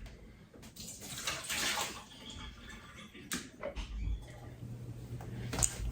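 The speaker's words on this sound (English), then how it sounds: "I'm gonna take some of the water out because that is just way too much water in here" Water being taken out of an aquascaped aquarium tank, with soft sloshing and trickling splashes at close range, fairly quiet and uneven, along with faint handling noises.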